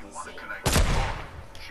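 A single sniper rifle shot cracks loudly in a Fortnite match and rings out in a short decaying tail, with a player's voice under the game sounds.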